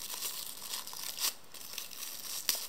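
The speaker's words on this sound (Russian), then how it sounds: "Порвался пакетик, ну ладно. Рвем, значит, дальше." A plastic packet is torn open while making a paper LOL Surprise Confetti Pop craft, giving close, crinkly tearing and crumpling rustles in short bursts over about three seconds.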